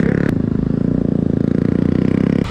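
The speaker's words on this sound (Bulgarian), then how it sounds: "Качваме се на скутера," Electric Surron scooter ridden through city streets, a steady close whirring motor drone with rattling clatter, holding an even level throughout with a short break near the start.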